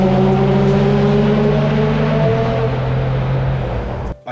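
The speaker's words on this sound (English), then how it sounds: "We're going to take a little pause just here to listen to some LMP2s." LMP2 race cars roar past at Brands Hatch circuit, a loud sustained engine drone with a falling pitch as one car passes, then a brief drop near the end.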